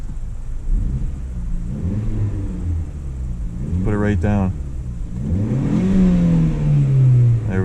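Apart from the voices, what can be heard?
Mazda 3 Turbo car exhaust revving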